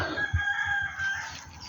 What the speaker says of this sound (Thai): ไก่กินพริก